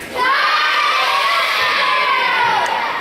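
Crowd of school children shouting a phrase together loudly in unison, one sustained, close group yell lasting a few seconds.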